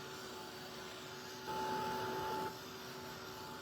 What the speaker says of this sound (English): Just give it a shot with your heat tool.